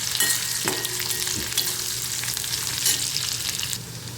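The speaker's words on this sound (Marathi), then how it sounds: "हा उभा चिरलेला कांदा घालायचा आपल्याला आणि कांदा व्यवस्थित गुलाबी रंगावर येईपर्यंत आपल्याला परतून घ्यायचा आहे" Lengthwise-sliced onion fries in oil in a pan for a brinjal-potato dry bhaji, giving a dense close sizzle broken by spatula scrapes and clicks as it is stirred, with no talking.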